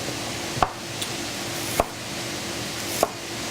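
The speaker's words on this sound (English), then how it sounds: "I'm going to cut it into a nice dice" A knife chopping carrots and potatoes into dice on a board during a restaurant cookery demonstration: three sharp, evenly spaced chops, close and clean, with no talking.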